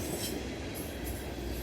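A freight train rolling past near Crofton, Kentucky, giving a brief, fairly faint, steady rumble with a light hiss of wheels on rail.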